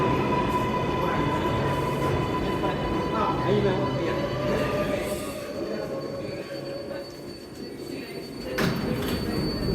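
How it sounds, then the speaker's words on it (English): A New York 7 subway train at Times Square station, steady rumble of wheels on track with high squealing tones and a hiss near the end, loud and continuous, with faint voices in the background. "And that's the train we're going to get on"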